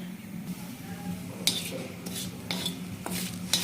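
Spices being dry-roasted in a pan, with a metal utensil clinking and scraping against the pan in a few distinct strokes over a low steady background hum, close and moderately loud.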